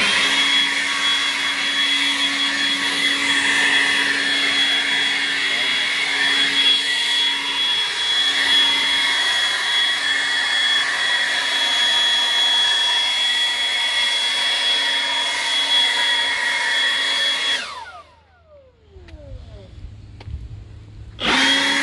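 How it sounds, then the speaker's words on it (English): A Milwaukee M18 Gen 3 Fuel dual battery leaf blower runs bare with no attachment, a loud steady close whine and rush of air that holds for most of the clip, then spins down abruptly near the end. "So it has plenty of power."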